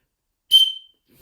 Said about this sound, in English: And this is the whistle.